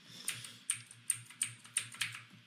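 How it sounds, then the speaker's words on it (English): Computer keyboard arrow keys tapped in an even rhythm, about six crisp close-up taps heard alone. "So if I tap my left and right arrow keys, we can try to keep track of where this thing's going."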